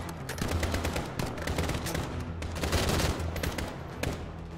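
Dense gunfire fills a Call of Duty Modern Warfare match, with rapid overlapping shots and bursts crackling continuously over a loud, busy game soundscape for the whole stretch.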